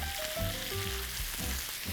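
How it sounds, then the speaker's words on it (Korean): Pork and vegetables sizzle steadily in a frying pan during a stir-fry, a close, continuous crackling hiss with soft scraping as the ingredients are stirred, and no talk. "지글지글 거리죠? 섞어요."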